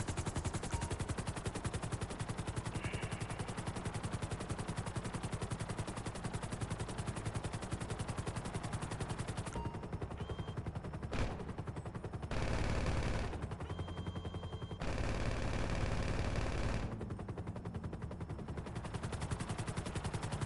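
Continuous loud gunfire and automatic weapon bursts fill a PS4 video game, dense and unbroken for most of the stretch, with a few shifts in intensity near the end.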